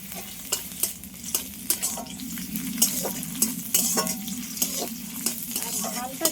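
Chopped onion and green chili fry in a pan with a constant close sizzle. Regular scraping and tapping strokes of a spatula punctuate it throughout.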